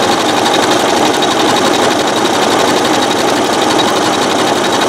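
A sewing machine stitches a rope bowl with a decorative stitch at a shortened stitch length, its motor running loud, close and steady with a rapid even needle rhythm throughout.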